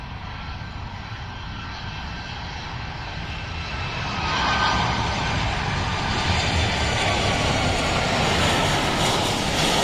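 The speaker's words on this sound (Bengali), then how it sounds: "এগিয়ে আসছে চায়না পোস্টাল এয়ারলাইন্সের বোয়িং 757।" A China Postal Airlines Boeing 757's engines roar steadily on approach near Uttara, Dhaka, swelling louder midway as the aircraft draws nearer, a broad continuous rumble with no voices.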